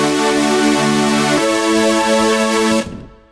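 Future bass supersaw synth chord shaped with EQ and OTT compression, bright and buzzy, holds steady, shifts to a new chord midway, then cuts off into a short fading tail.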